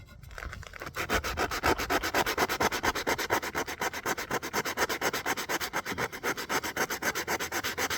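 A 220-grit sanding sponge rubbed by hand over a curved bentwood rocking chair, producing quick, even back-and-forth scratchy strokes in a steady rhythm, close and continuous with no talk.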